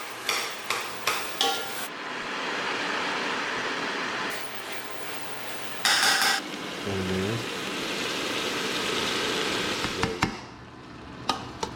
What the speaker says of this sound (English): Just trying to get this meat cooked.